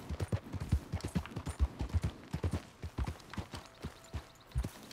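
Horse hooves clip-clop at a steady trot in Red Dead Redemption, a quick, rhythmic run of hard thuds that keeps up throughout, heard alone and moderately close.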